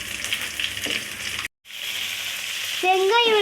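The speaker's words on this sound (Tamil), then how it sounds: "வறுக்கவும் வெங்காயம் போட்டுக்கலாம்." Onions sizzle and fry in a hot pan for tomato chutney, a steady broadband crackle that cuts out briefly, then resumes with stirring noises rising toward the end.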